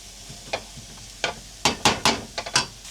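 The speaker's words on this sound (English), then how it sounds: "It takes 3 more minutes to cook this onion." Onions browning in butter in a pan for chicken curry, a soft sizzle with several sharp scraping stirs clustered near the end, close and fairly quiet.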